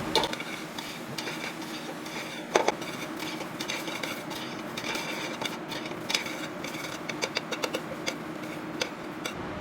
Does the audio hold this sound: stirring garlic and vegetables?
yes